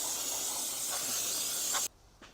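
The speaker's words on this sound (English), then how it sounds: "Spray off all this dust from me grinding." A spray nozzle blows grinding dust off car engine parts in a continuous close hiss that cuts off abruptly near the end, leaving a faint short tap afterward.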